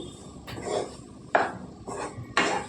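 Mint paste being mixed into cooked rice with a utensil, a few separate scraping and tapping strokes against a vessel, close and moderately loud with quiet pauses between.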